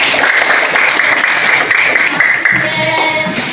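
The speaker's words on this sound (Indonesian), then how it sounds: "Tepuk tangan dulu untuk Bilkis." A classroom full of people claps briskly for a few seconds during a primary school lesson, a dense burst of applause that stays steady and close.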